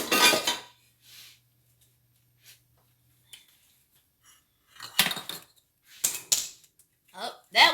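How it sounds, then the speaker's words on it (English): A metal whisk drops onto a kitchen floor with a sharp clatter and a short rattling bounce, among sparse clinks and brief speech. "My whisk just hit the floor."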